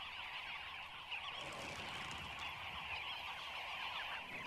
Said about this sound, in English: The noise and bustle of dozens of birds coming and going make it stop drinking twice.